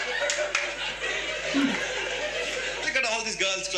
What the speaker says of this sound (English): Look at all these girls clapping.